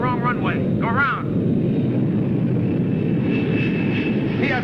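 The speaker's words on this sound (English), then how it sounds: "aircraft landing on wrong runway. Go around." A fixed-wing aircraft landing and then going around, a loud steady engine roar that stays constant throughout, with a voice speaking over it at the start.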